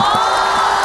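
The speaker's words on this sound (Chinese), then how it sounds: "大家掌声鼓励他" A studio audience at a Chinese entertainment show cheers and applauds together, a loud, dense crowd roar held steady and close throughout the brief moment, with no single voice standing out.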